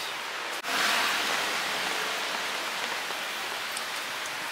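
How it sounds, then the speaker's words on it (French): Heavy rain falling in a Japanese garden: a dense, steady hiss of rainfall, close and loud, with a brief click near the start and no talking. "il pleut énormément"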